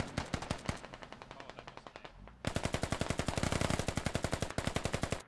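Sustained automatic gunfire in the video game Squad as troops open up on an incoming technical vehicle, dense rapid bursts of loud shots that pause briefly and then resume even heavier.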